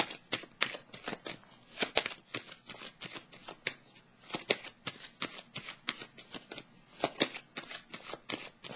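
Tarot cards being shuffled by hand close up, a quiet run of quick crisp riffling slaps and flutters repeating steadily with no talking.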